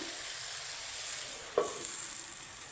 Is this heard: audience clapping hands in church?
no